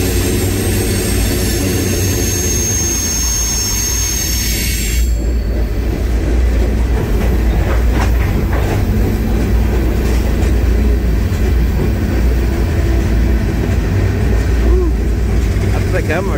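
A CSX freight train rumbles along, heard up close from aboard, a loud continuous roar of wheels on rails with squealing metal and clanking throughout.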